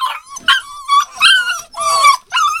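Several puppies bark and yip in quick, high-pitched bursts, close by and fairly loud, one after another with short gaps between them.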